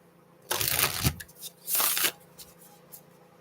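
Two bursts of playing cards being riffle shuffled and bridged, each a quick fluttering rush about a second long, close and fairly loud with a brief pause between them.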